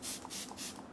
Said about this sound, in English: nice little spray, and also it's just so refreshing when you're hot